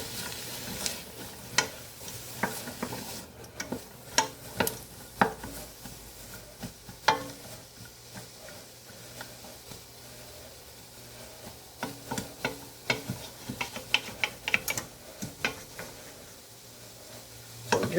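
Onion, celery and diced carrot sauté in a pot with a soft continuous sizzle, punctuated by frequent sharp clicks and scrapes of a spoon stirring against the pot, close and without talk.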